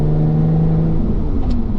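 A Lotus sports car engine in sport mode rumbles loudly up close, holding a steady low drone before the pitch shifts slightly as it revs.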